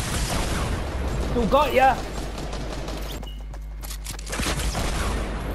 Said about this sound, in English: He's still eliminating you with a minigun.